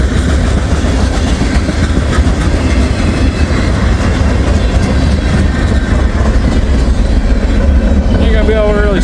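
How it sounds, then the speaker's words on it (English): A CSX freight train thunders by in the snow, close and loud, with continuous rumbling wagons and rhythmic clickety-clack of wheels, ending in a squeal near the end. "I think the end of the CSX train is coming."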